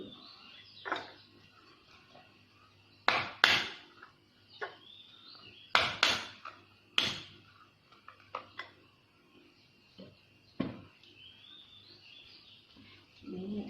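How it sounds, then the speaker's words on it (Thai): Several sharp, loud knocks and thuds on a hard surface, a knife blade smacking down on garlic cloves in bursts with pauses between, with faint chirps in the background. "ตบกระเทียมนิดหน่อย"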